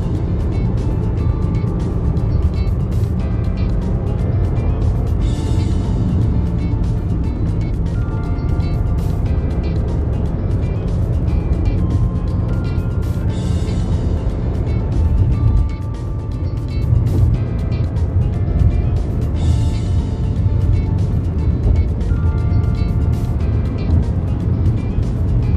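A Mahindra XUV300 petrol SUV drives fast along an open highway, its steady engine drone and road and wind roar filling the cabin continuously, with faint occasional whooshes of passing traffic.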